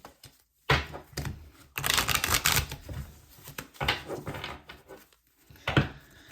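Tarot cards being shuffled, a run of crisp rapid riffling and tapping bursts separated by short pauses, close and fairly loud with no talk.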